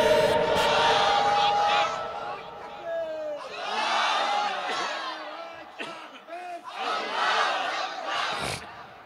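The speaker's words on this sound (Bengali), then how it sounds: "সকলে জবান ছেড়ে বলবো আল্লাহু আকবার" Large rally crowd roaring the takbir in loud unison, three surging bursts of massed shouting at a political Islamic gathering, each swelling and fading with a brief lull between.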